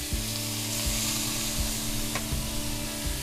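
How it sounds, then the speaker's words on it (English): Chicken with jerk seasoning sizzles in a hot pan, a loud, continuous crackling fry with repeated low thumps from stirring or pan movement and no talking. "So you hear that sizzle? That's what you want."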